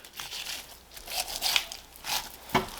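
A knife slicing and peeling membrane off a whole top sirloin, heard as close, uneven bursts of wet tearing and crinkling that end in a sharper pull.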